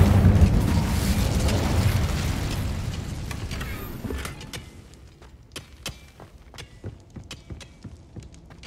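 An Incendio fire spell is cast in the Hogwarts Legacy video game: a loud roaring burst of flame that fades away over a few seconds, followed by quiet, scattered footstep-like taps.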